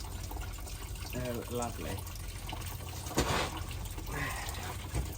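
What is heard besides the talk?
water draining from tank engine sump after cracking the bung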